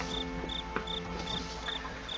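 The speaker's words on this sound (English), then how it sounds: "In the distance, you hear crickets harmoniously play." Crickets chirp in a regular pulsing rhythm, several bursts spaced evenly over a soft continuous night-time hum, fairly clear and steady with no voices.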